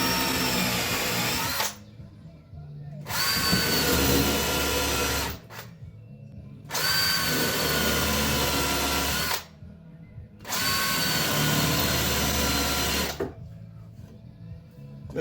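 An electric drill running in four bursts of a few seconds each, with short quiet pauses between, loud and close, boring through pallet wood.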